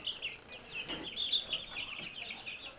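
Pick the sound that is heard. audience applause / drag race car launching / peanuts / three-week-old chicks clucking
three-week-old chicks clucking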